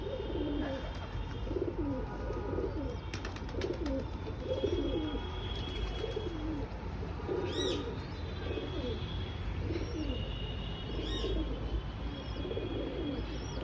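A pigeon coos repeatedly in a soft, rhythmic series of low, throaty calls against a steady hum. Occasional faint chirps from other birds drift in.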